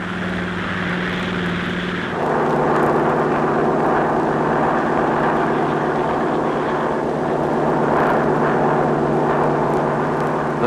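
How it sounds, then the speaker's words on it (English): A propeller-driven aircraft flies near the Colossus-class light aircraft carrier HMCS Warrior, a steady engine drone that swells louder after the first couple of seconds and holds, with no speech. "Aircraft in sight. Aircraft in sight."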